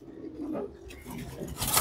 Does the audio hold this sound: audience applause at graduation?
no